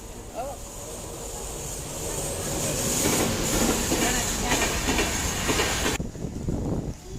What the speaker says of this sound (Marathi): तर ट्रेन आली आता चाललेत ते